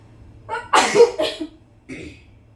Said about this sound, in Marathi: आता शिंकण ते यायला लागल्यात बघा मला